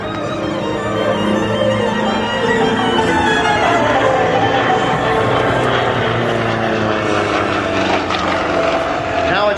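Aerobatic propeller airplane performing at the Abbotsford air show in 2010, a loud continuous engine drone that rises and shifts in pitch as it maneuvers, with an announcer speaking over it.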